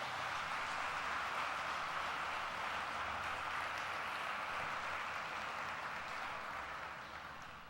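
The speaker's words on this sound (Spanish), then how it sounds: "Dele un fuerte aplauso al Señor." A church congregation gives sustained applause, a dense, even wash of many hands clapping that holds steady for several seconds before beginning to fade.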